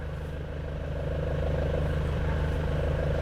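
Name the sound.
Nissan Frontier clutch rattling when pedal is pressed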